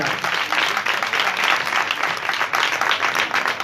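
A crowd at a revival street meeting claps loudly and continuously, a dense, sustained wash of applause from start to finish.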